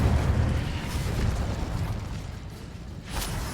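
Incendio, a fire spell cast in the Hogwarts Legacy video game, sends out a sustained, loud, roaring whoosh of flame that fades a little and then flares again near the end.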